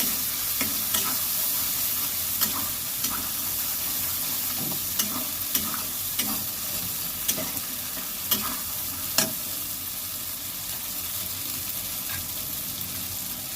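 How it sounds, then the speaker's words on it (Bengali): Potatoes sizzle and fry in a pan for a katla fish curry while a spoon stirs them, with sharp repeated scrapes and clinks over a steady frying hiss. "আলুগুলো দিয়ে ভালো করে নেড়ে চেড়ে নেব"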